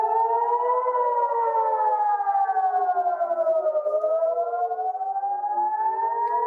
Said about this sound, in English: Ali, sirens sounding in Jerusalem, which doesn't necessarily indicate that Jer